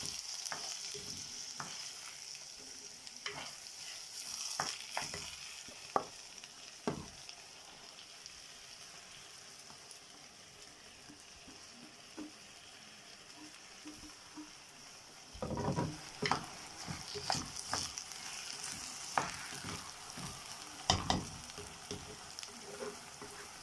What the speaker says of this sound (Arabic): انا بحط الاول الزيت وبقلبه في الزيت شويه